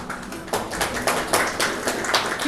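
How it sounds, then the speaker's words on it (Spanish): Brief burst of applause at an Inti Raymi festival event, a small crowd clapping in uneven rapid bursts, moderately loud. "Un fuerte aplauso."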